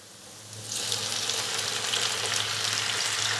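Finely chopped tomatoes hit hot oil with lightly fried chillies for an egg tomato gravy, and a loud, bright sizzle bursts up after a quieter start and holds steady.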